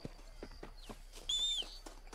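A horse in the western game Red Dead Redemption clip-clops at a steady walking rhythm of hoof falls, fairly faint. A brief high whistle-like tone cuts through partway.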